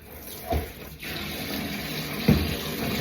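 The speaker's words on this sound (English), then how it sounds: "Just run off the cold first and get some hot water" Water runs steadily from a kitchen tap into a sink, a constant close rush with a couple of brief louder splashes, no talking.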